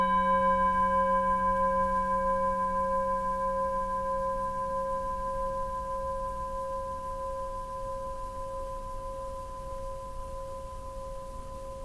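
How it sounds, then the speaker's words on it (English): A singing bowl rings in a meditation setting, one long sustained tone with clear overtones that slowly fades, alone and quiet. "here's the sound of the singing bowl"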